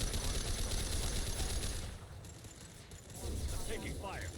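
Rapid bursts of gunfire from the sci-fi shooter Mass Effect 2 rattle on for a couple of seconds, fade to a lull, then return more faintly, mixed with mechanical clicks and faint voices.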